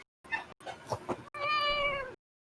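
A pet cat meows indoors, giving a few short calls and then one longer drawn-out meow, close and clear, with no talk over it.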